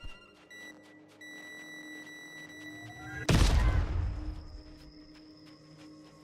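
A sudden loud blast from an explosion in a horror video game rips through quiet electronic beeps and tones, then decays into a rumbling tail with scattered gunfire.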